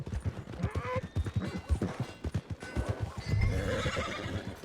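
A horse in the Red Dead Redemption 2 game whinnies loudly while hooves clip-clop in a quick, steady rhythm close by, with a brief clatter partway through.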